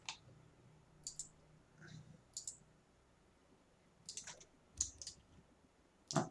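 Soft mouse clicks come in scattered single taps and quick pairs while modeling in 3ds Max, irregular and faint over a quiet background.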